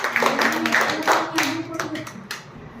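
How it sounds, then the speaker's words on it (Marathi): Hands clap loudly for the winner of a classroom matchstick-equation mind game, a burst of brief irregular claps mixed with speech throughout. "व्हेरी नाईस मानण्यासाठी जोरात टाळ्या"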